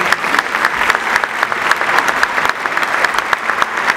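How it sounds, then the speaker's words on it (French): A ceremony audience in a hall claps steadily after a performance by accomplished sportsmen, a dense, even round of applause throughout. "on peut applaudir de nouveau pour leur prestation"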